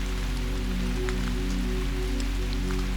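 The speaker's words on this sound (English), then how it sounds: "You can just hear the soft pitter and patter atop the leaves of these ancient trees" Gentle rain patters softly and steadily on the leaves of old trees, a faint, even hiss with scattered small drops and no voices.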